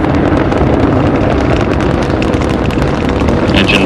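Space Shuttle Atlantis main engines at full throttle during the STS-43 launch, a loud, continuous broadband roar with heavy low rumble, steady throughout with no voices.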